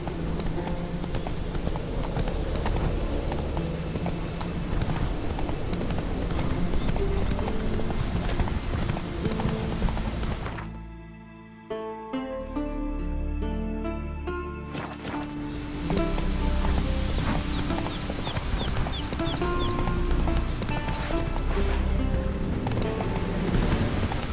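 Horse Roach galloping in The Witcher 3, a rapid, steady clip-clop of hooves over game ambience and music, breaking off briefly midway before the rhythm resumes.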